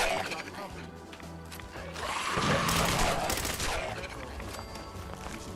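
Rapid bursts of gunfire in Fallout 4 swell into a loud, dense fusillade with crashing, shattering impacts, then fade, while voices talk over parts of it.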